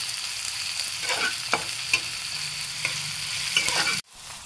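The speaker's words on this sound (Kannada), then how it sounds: "ಈರುಳ್ಳಿ ಒಂದು ಸ್ವಲ್ಪ ಹಸಿ ವಾಸನೆ ಹೋಗುವಷ್ಟು ನೀವು ಇದನ್ನು ಹುರ್ಕೊಳ್ಬೇಕು." Chopped onions fry in a pan for vegetable paddu, giving a steady close sizzle. Several scraping stirs cut through before the sound stops abruptly.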